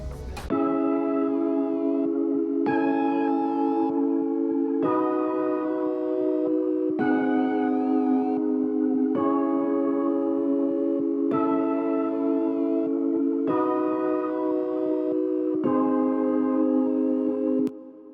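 Sustained synthesizer chords on the Key Mystery keys preset, played one after another, each held for about two seconds with a smooth, mellow keys tone, steady and alone.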